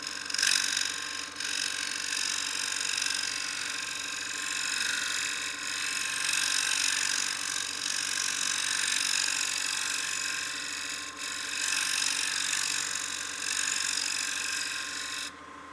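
A wood lathe spins a bowl blank while an Easy Wood Tools carbide cutter works the wood, making a continuous, fairly loud whirring scrape with a few brief dips in texture across the cut.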